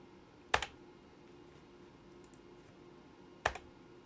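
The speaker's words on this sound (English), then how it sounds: "press the delete key on my keyboard" Two separate sharp clicks of a key being pressed on a computer keyboard, about three seconds apart, faint against a quiet room hum.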